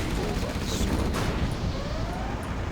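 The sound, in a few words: rocket fire in video game Command & Conquer Generals Zero Hour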